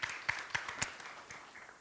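Scattered, faint hand claps from a small audience at an AI and digitalization summit, a handful of sharp claps spread over about two seconds and fading out.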